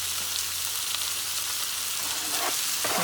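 Sausages browning in a Tefal electric slow cooker, a steady close sizzle and crackle of frying fat that runs continuously with no voices.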